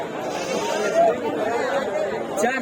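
Goats bleat in wavering calls at the busy Kothagudem goat market, partly masked by steady crowd chatter and people talking nearby.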